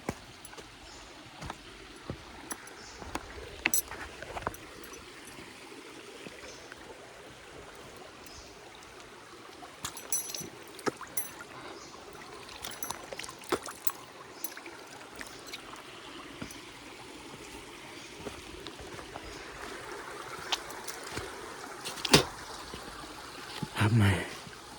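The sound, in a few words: stream water flowing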